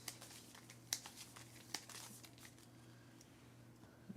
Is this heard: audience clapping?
no